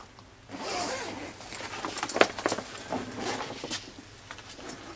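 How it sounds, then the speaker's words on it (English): A zipper on a hydroponic grow tent is drawn open in a few quick, close scratchy pulls, followed by faint rustling handling noise. "I unzip."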